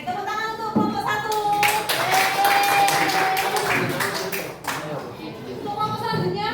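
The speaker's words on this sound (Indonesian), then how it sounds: "tepuk tangan untuk kelompok 1." A classroom group claps for group 1 after its presentation, a sustained patter of many hands kept up for several seconds while voices talk over it.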